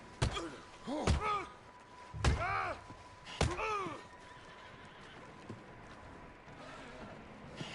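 A horse whinnies repeatedly in the video game Red Dead Redemption 2, with sharp thuds and hoof knocks between the calls, then quiets to a low background hum.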